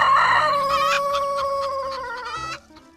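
A rooster crows once, close and loud, in a long drawn-out call that holds and then breaks off abruptly at the end.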